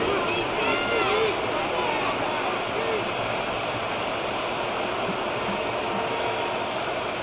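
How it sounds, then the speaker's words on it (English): A steady, roaring stadium crowd in the Madden 26 American football game fills the scene as a dense, continuous wash of noise, with play-by-play commentators talking over it. "this crowd making it hard to hear"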